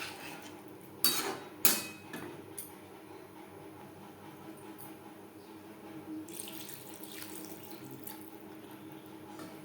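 Water poured into a pan of fish curry with vegetables, a soft steady running splash that is faint and close, with a couple of sharp clinks of cookware near the start.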